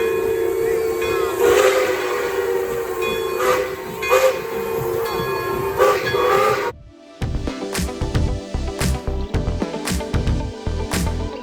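A Lionel Strasburg 0-6-0 number 31 model steam locomotive, styled after Canadian National 7312, gives a steady steam-whistle tone and hiss. After a brief drop-out it switches to sharp, rhythmic clicking and clattering as it runs.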